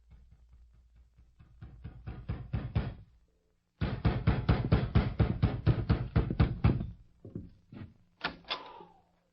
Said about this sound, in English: It must have been about midnight when I heard a knock at the door.